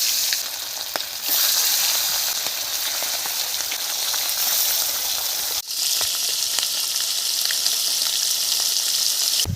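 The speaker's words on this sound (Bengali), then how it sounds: "তেল গরম হয়ে গেছে, মাছগুলো ভেজে নেব।" Fish frying in hot oil in a home kitchen, a dense continuous sizzle and crackle filling nearly ten seconds, loud and close, with a brief dip midway as the pan is disturbed.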